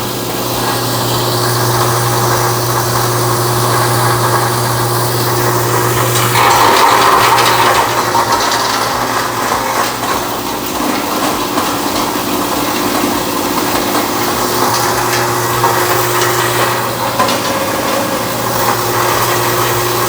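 A BDG Compact 1 mini granulator shreds copper wire with a steady, loud mechanical drone and low motor hum that runs throughout, its texture briefly roughening as material feeds through, with no talking.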